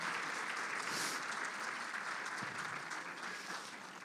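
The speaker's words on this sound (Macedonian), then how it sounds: "Заслужуваме за еден аплауз." An audience at a company presentation applauds in a steady, dense wash of clapping that holds for several seconds and then slowly tapers off, with no talking over it.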